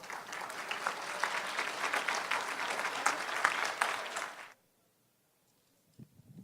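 An audience at a memorial scholarship foundation event applauds with steady moderate clapping for several seconds, then falls silent, followed by a faint brief sound.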